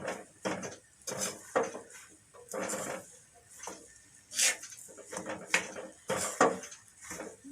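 Sesame laddu mixture stirred with ghee in a kadhai, a spoon scraping and knocking against the metal in quick irregular strokes, close and fairly quiet with short pauses between bursts.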